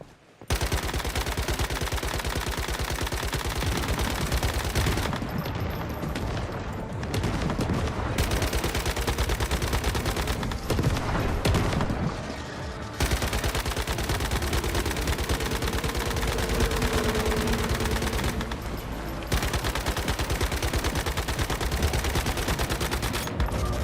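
Gunfire from a slow-reloading weapon in the video game Once Human, dense rapid bursts of shots in long loud stretches broken by brief pauses, close and continuous.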